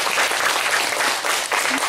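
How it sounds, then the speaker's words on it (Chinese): An indoor audience claps after a lecture on travel photography and poetry, a dense, even burst of applause lasting under two seconds with no voices heard over it. "我们再次掌声。"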